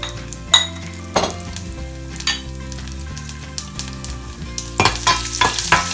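Garlic sizzles in hot oil in a pan, with mustard seeds and cumin added before it, for kulith pithla. The crackle is steady and close, broken by occasional clinks and scrapes of stirring.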